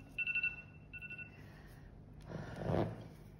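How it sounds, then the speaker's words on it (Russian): A kitchen timer rings in two short bursts of high electronic beeping, clear and close, then falls quiet before a soft rustle and thump follow. "Звонит таймер, заканчиваем."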